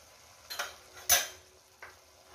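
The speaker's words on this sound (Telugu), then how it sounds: "ఇప్పుడు దీన్ని మొత్తం కలిపేద్దామండి." A utensil stirring mushroom fry seasoned with pepper powder in a pan, giving a few sharp metallic scrapes and clinks spaced irregularly over a quiet background.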